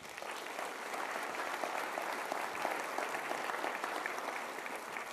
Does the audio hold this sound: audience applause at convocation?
yes